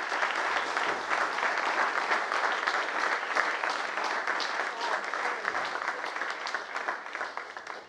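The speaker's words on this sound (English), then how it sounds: "if we could give a round of applause" A panel audience applauds in a sustained round of clapping, steady and fairly dense throughout and easing slightly near the end.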